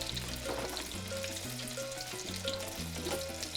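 Alcapurrias frying in hot oil give a steady, dense sizzle with continuous crackling bubbles, close and even throughout, no voices over it.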